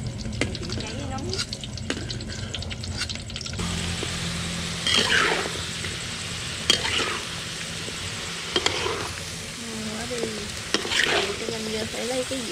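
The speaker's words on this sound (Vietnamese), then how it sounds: "Giờ chị xào thập cẩm lại nè." Mixed vegetables, including radish, stir-fried in a hot pan for a vegetarian meal, with steady sizzling and scraping stirs throughout and a few louder clatters, while people talk nearby.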